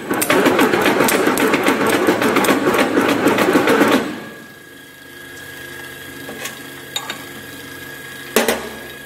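An agarbatti incense stick making machine with a rocket die runs with fast, loud rhythmic mechanical clatter for about four seconds, then stops, leaving a few faint clicks and knocks.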